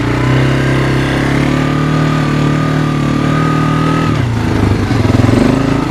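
A 2001 Kawasaki Lakota motorcycle engine runs loud and close at a steady drone, then its pitch drops and it settles into a rougher, throbbing rumble near the end.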